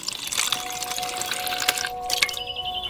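Water pours into a pot over meat already covered in red wine with sprigs of thyme and rosemary, making a close, continuous splashing and trickling with a few sharp crackles near the end.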